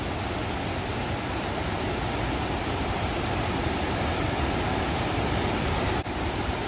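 Swallow Falls in Snowdonia, running high with plenty of water, gives a steady, dense roar of falling water that holds unbroken and loud from start to finish.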